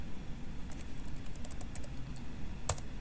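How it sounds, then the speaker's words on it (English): Someone types a short command on a computer keyboard to kill a running process: a quick, light sequence of keystroke clicks ending in one sharper tap, over a steady background hiss. "I typed in kill 1"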